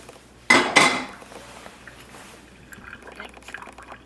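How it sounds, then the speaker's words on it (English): Cooked turnips and their water poured from a pot into a kitchen strainer at the sink: a sharp double clatter of metal, then a soft, trailing trickle of draining water. "Using my strainer, I'm just going to pour them over the strainer"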